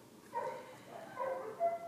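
A dog barking in a distant, muffled way during heavy rain and a thunderstorm, with two faint bursts of barking over a low background hum.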